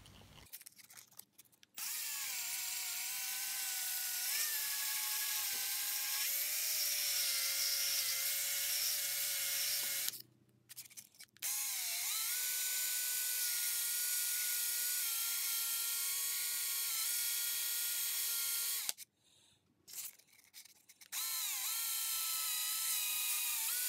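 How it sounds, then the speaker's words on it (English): A high, steady electric drill whine as the drill spins a vape tube mod to remove its clear coat, with water added, running nearly continuously, stopping twice briefly before spinning up again, loud and close with no talking. "now I'm going to put it into the drill."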